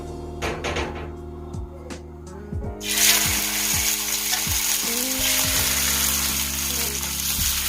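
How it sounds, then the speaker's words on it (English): Shrimp dropped into hot coconut oil in a pan burst into a steady, loud sizzle after a few seconds of quieter kitchen clatter, with low-pitched hum and occasional clinks running underneath. "So we're going to saute down the shrimp first."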